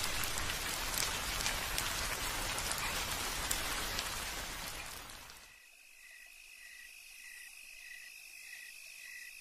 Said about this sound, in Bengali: বাইরে এখনও ঝিরঝিরে বৃষ্টি হচ্ছে।